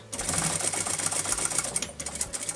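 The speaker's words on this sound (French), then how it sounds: "Et je couds jusqu'en bas." Rapid close stitching from a sewing machine sewing the bottom seam of a fabric cover for an e-reader or tablet, a fast even clatter that runs steadily for a couple of seconds before easing briefly.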